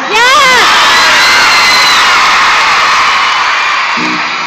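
A live concert crowd roars with cheering, whoops and children's shouts, a loud sustained wall of voices that carries on without a break from start to finish.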